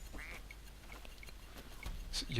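A duck quacks in the platform game Rayman Legends, giving a few quiet, nasal cartoon quacks spaced across the moment, with someone talking softly underneath.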